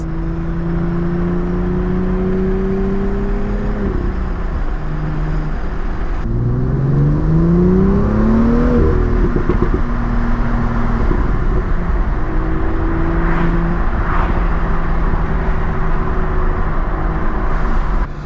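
A stock BMW M2 F87 downshifts while driving, engine note climbing and dropping through gears, with a few quick crackling exhaust pops over the steady cabin drone.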